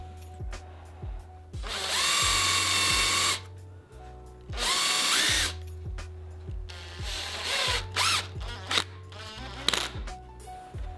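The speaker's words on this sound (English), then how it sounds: "the final part is drilling out the hole for your base plate" A power drill bores out the hole for a wooden router jig's base plate in two long, loud bursts, followed by lighter intermittent drilling and clicks, close by with no speech.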